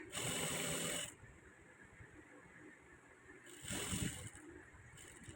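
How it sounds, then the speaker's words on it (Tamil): A sewing machine runs in two loud bursts while top-stitching a maxi dress, first for about a second and then again a few seconds later, with a quiet lull between the runs. "அதை அப்படியே நான் டாப் ஸ்டிச்சும் போட்டுக்கிறேன்"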